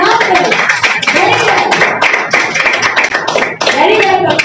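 Clapping from a group in a spoken English class show hosting activity, loud close hand claps under ongoing talk, with voices speaking prominently over the clapping.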